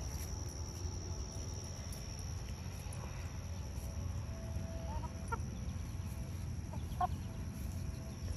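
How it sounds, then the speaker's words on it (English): Soft, scattered clucks from a few chickens over steady outdoor background hiss and insect chirping, no one talking. "Silly chickens."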